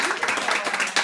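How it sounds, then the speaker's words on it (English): A short round of applause from a small audience at a cookie-baking demonstration, a brief cluster of claps at moderate volume with faint talk beneath. "I would like a round of applause"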